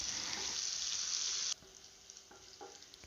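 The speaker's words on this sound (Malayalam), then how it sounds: "നമുക്കിനി ഇതിലേക്ക് ചതച്ച് വെച്ചിരിക്കുന്ന ചെറിയുള്ളിയും വെളുത്തുള്ളിയും ചേർത്ത് കൊടുക്കാം. ഇത് നന്നായിട്ട് വഴറ്റിയെടുക്കണം." Crushed shallots and garlic hit a hot pan and sauté, giving a loud hiss that cuts off abruptly after about a second and a half, followed by quieter sizzling and a few light stirring clicks.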